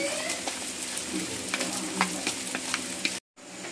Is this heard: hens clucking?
no